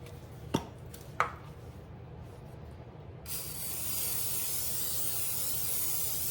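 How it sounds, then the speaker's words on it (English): A couple of sharp knocks, then a steady hissing spray of non-stick cooking spray from an aerosol can onto a pan that keeps going to the end. "See, just your little non-stick spray."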